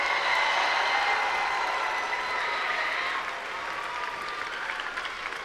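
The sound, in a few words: applause for mentors and coaches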